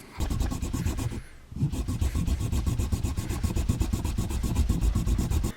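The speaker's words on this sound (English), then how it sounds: "I was just showing you how to do it with the handsaw just for reference." Handsaw cutting through water buffalo horn, a steady rapid back-and-forth rasping with many regular strokes, briefly pausing near the start before resuming, close and loud with no talking.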